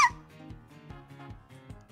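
A dog in Minecraft yelps and whimpers as it is killed, giving short pained squeaks that repeat in a steady pulse over two seconds, fairly quiet.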